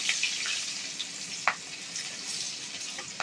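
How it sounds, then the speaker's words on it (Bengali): Pabda fish frying in a pan with nigella seeds and slit green chili, a steady soft sizzle with a few brief scraping stirs, close and alone without talk. "দিয়ে দিলাম কালো জিরেটা আর দিয়ে দেব কাঁচা লঙ্কা চেরাটা, দিয়ে বেশ ভালো করে একটু নেড়ে নেব"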